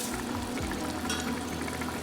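Washed rice tipped into a pot of sautéed chicken curry with separated oil for Tamil tham chicken biryani, a close, continuous wet sizzling and splashing.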